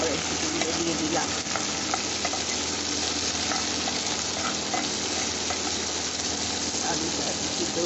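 Green peas fry in a pan for a fasting-day sabudana recipe, with steady loud sizzling and the scrape of stirring throughout. The sound is close and continuous.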